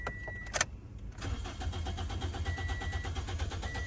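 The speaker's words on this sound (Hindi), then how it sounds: "ये गाड़ी स्टार्ट ही नहीं हो रही।" A Toyota Corolla engine with an ECM fault cranks over and over without catching. After a brief pause, a steady, rhythmic churning of the starter carries on close by with no talking.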